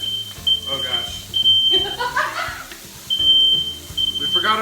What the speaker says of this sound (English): We forgot about our smoke detector. It literally goes off every time we cook on the stovetop.